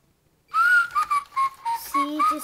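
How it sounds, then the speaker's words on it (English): A Christmas Santa toy whistles a short tune of clear, bright notes close up, starting abruptly after a moment of silence and running in quick, evenly spaced phrases. "It says Merry Christmas, then whistles."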